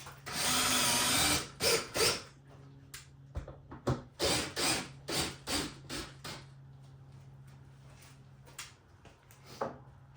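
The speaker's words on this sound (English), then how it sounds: "so now we can get the back row screws on" Power drill driving screws into wooden garage shelving, loud whirring bursts followed by a series of short, stop-start trigger pulses, close up with no talk.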